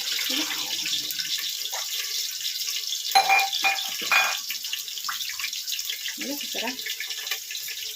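Close wet squelching and trickling water as soaked soya chunks are squeezed out by hand, with a few short spoken words and scattered kitchen clatter.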